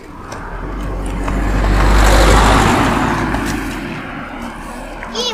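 A car drives along a mountain road in the Tatras near Dolina Chochołowska, its engine and tyre noise swelling loudly as it draws close and passes, then easing off, with no talking over it.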